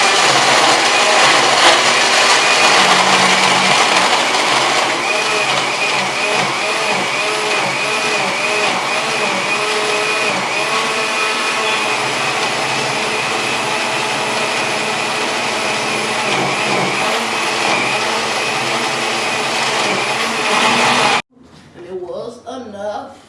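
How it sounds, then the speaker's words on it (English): A blender whirs loudly and steadily for about twenty seconds while blending a smoothie, then cuts off abruptly, leaving quieter room sound. "let's blend."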